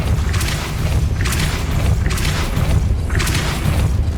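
Depulso force spell cast repeatedly in Hogwarts Legacy, four loud whooshing blasts about one second apart over a constant deep rumbling game backdrop, no talk.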